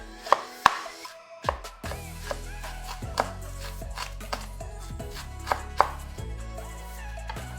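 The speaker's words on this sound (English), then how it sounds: "So cut your cabbage." A knife chops cabbage on a cutting board in a home kitchen, with sharp, irregular knocks that come in quick bursts and pauses, close and clear with no talking.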